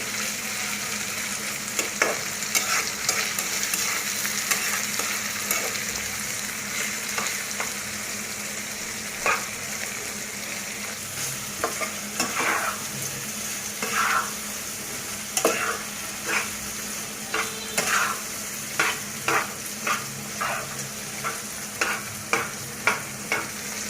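Beef tripe frying crisp in a pan, a steady loud sizzle throughout with repeated scraping stirs that grow more frequent toward the end, no voices.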